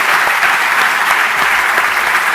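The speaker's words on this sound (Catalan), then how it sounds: "Un aplaudiment." Dense, steady applause from an audience at an awards ceremony, loud and continuous throughout, with no gaps and no speech over it.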